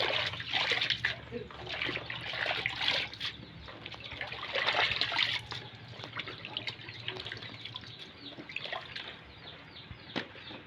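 Freshly washed food sits draining before going into the freezer, water trickling and dripping off it in soft, uneven spurts nearby.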